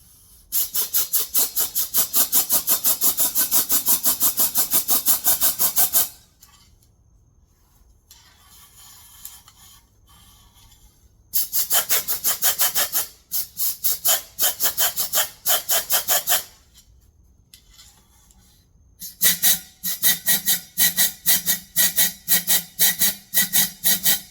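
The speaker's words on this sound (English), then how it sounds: "I am going to blow some air in the cylinder and move the oil around so it can get around to the rings." Compressed air blown into the cylinders of an engine being inspected, loud rushing hiss in long steady blasts, then a pause, then choppy pulsing bursts whose tone shifts; close-up with no speech.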